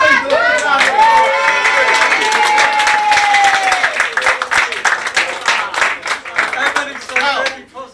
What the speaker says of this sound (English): Give these people a big round of